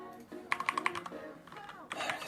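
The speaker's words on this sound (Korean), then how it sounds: "여러분들이 타자 소리가 좋다고 하셔서" Clattery keystrokes on a computer keyboard come in a quick burst of about five taps, then a few scattered presses and a short flurry at the end, fairly close and alone with no talking.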